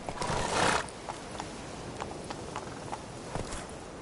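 Horse hooves clip-clop in The Witcher 3 in a brief series of light, evenly spaced steps, with a louder burst of movement near the start and faint in-game ambience underneath.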